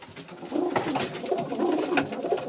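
Racing pigeons coo inside a breeder's loft, close and clear, with soft repeated throaty rolling calls overlapping in a low rhythmic murmur across the whole moment.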